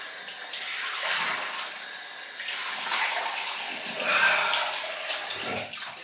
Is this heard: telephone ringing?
no